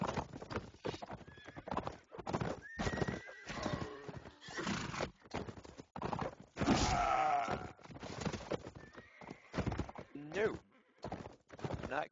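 Horse hooves clip-clopping with repeated neighs and whinnies in a video game sky race tourney, fairly loud and continuous, with players talking over it.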